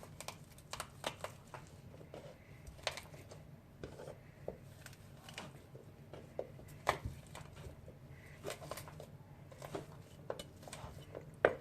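Soft, irregular knocks and thuds of ginger being pounded and crushed in a pot, with faint clinks, quiet and close.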